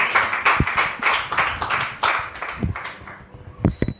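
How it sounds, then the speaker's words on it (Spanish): Church congregation claps during a worship service, an uneven swell of many hands in rippling bursts, with a few sharp, close claps standing out and the sound thinning toward the end. "Si has recibido algo de Dios, dale un fuerte aplauso"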